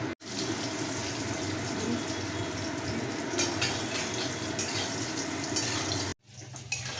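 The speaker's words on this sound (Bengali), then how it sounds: "তেল গরম হয়ে গেছে, এবার আলু ছেড়ে দিচ্ছি" Potatoes seasoned with turmeric and salt fry in hot oil for dhokar dalna, giving a dense continuous sizzle that cuts off briefly near the start and again near the end.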